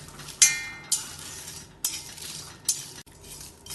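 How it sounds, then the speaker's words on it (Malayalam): Whole spices for Thalappakatti chicken biryani tossed in a hot dry pan, giving several sharp scraping clinks of a spoon against metal over a faint background hiss, spaced irregularly. "ഇത് ചൂടാക്കി എടുക്കാൻ വേണ്ടി അടുപ്പത്ത് ചൂടായ ഒരു പാനിലേക്ക് ഇടാം ഇതിന് കുറച്ച് സമയം ഇളക്കി ചൂടാക്കിയെടുക്കാം"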